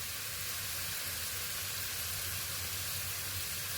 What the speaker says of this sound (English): Now add your minced meat.